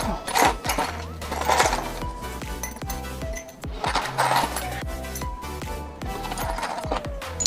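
Rusty screws, nails and scrap metal pieces are dropped into a glass jar to make a cleaning jar for a drill. Repeated bright metallic clinks and rattles land in quick clusters over a steady tonal background hum.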